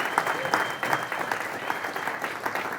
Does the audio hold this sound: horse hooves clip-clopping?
no